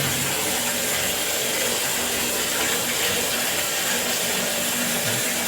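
Water gushes steadily from a tap under repair for leaking, a constant loud hiss without pauses.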